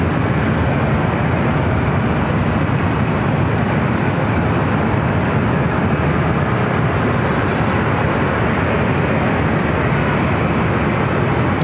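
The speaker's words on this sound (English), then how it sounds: "This is Swiss Flight 41 taking off to Zurich" A Swiss Boeing 777-300ER airliner taking off at LAX, a loud sustained roar of jet engines, steady and dense across the whole stretch with no voices over it.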